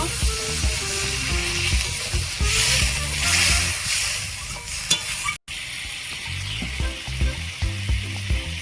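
Fish curry with tomatoes sizzles loudly in a pan, then water is poured in, with a sharp surge of hissing and bubbling and stirring scrapes close by.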